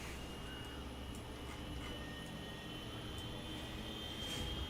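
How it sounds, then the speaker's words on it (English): A simulated Boeing 737 jet engine in the Zibo 737 for X-Plane 11 runs with a steady, full-bodied roar and a faint high whine above it, sustained and even throughout. "Hear that engine spool up, Sim fans?"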